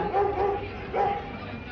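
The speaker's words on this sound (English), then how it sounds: "Who let that dog out?" A dog barks outdoors in a few short yipping bursts, moderately distant and mixed with background outdoor noise.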